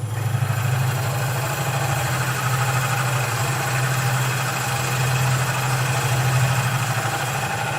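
A wood lathe spinning up in a woodturning shop, a steady low motor hum with constant pulsing vibration, close and continuous, no talk.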